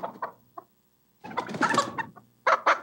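A chicken clucks in short, close bursts separated by brief silences, with a louder run of clucks in the middle and two sharp calls at the end.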